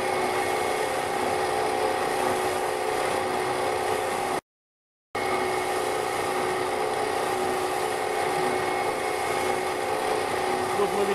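A PS-250 universal screw oil press runs with a steady, dense mechanical drone and whine, pressing oil through three chambers; the noise is loud and continuous apart from one brief gap of silence.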